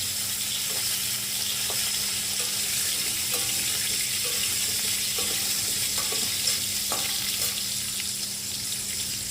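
Diced potatoes frying in oil in a wok, a constant close hiss with occasional light clicks of stirring and no talking.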